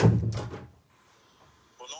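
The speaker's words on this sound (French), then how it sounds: "Ferme la porte, mon amour." A door swings shut indoors with a single close thump, fairly near, followed by a short quiet room tone.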